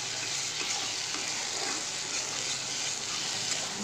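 Spiced taro greens with a hilsa fish head sizzle in a hot pan as they are mixed, a steady close frying hiss with soft stirring scrapes throughout.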